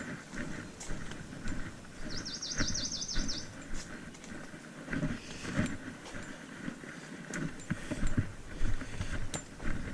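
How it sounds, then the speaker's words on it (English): A bird on the Pu'u Ohia and Kalawahine forest trail gives a rapid repeated warbling call, fast like a car alarm, lasting about a second amid constant rustling ambience and scattered faint chirps. "The bird sounds like a car alarm."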